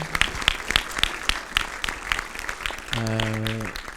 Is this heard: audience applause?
yes